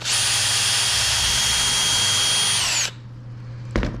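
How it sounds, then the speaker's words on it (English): A close, high-pitched cordless drill whines steadily for about three seconds while pre-drilling plywood, then stops abruptly, followed by a short clunk. "So pre-drill."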